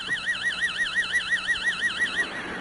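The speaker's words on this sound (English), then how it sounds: "your brainwave will sound like this if you're listening to an amplified modulated signal." Amplified, modulated EEG theta brainwave signal rendered as sound: a steady high warbling tone wobbling rapidly and evenly up and down, moderately quiet over a low hiss, with no voices.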